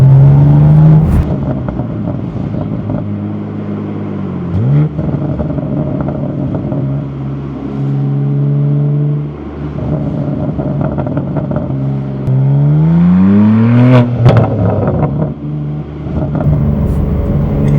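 A BMW G87 M2 fitted with an AWE SwitchPath exhaust revs and accelerates through the gears, its engine note climbing in loud rising sweeps with shifts and crackles between pulls, close and dominant.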